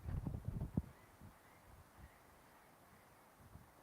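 Outdoors, a jay gives a burst of harsh, rasping squawks at the start, fairly close and loud, then the scene settles into quiet wind and faint rustling.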